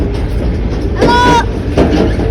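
A JCB excavator working alongside tractors during loading in a village, its heavy diesel engine rumbling loudly and continuously, with two harsher bursts of mechanical noise about a second apart.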